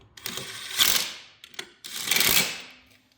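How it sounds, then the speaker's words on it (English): The blade holder clamp on an ES 1000 machine is tightened in two short bursts of close, crisp ratcheting clicks separated by a brief pause. "We want to make sure the blade is seated against that notch and then tighten the clamp down."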